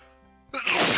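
A single sudden sneeze, close and loud, bursts out after a quiet moment of soft background tones and fades over the final half second.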